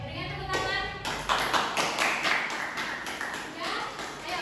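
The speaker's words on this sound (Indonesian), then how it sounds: "Oke, berikan tepuk tangan." Classroom applause from students during a microteaching lesson: a burst of scattered hand claps running for several seconds, fairly close and steady, with children's voices mixed in.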